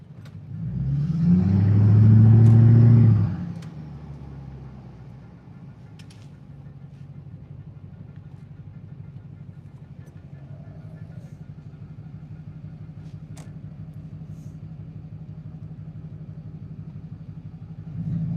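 A Duramax pickup truck engine surges loudly for a few seconds under acceleration, then drops back to a low, steady engine drone that continues faintly to the end.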